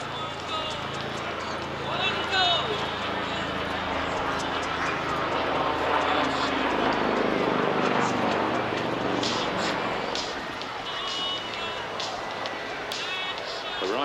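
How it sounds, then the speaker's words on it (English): A Westland Lynx AH7 helicopter, airframe XZ179, flies past at the Clacton airshow, its engine and rotor roar swelling and then fading, while a commentator talks over the public address throughout. "let's welcome the Lynx AH7 helicopter."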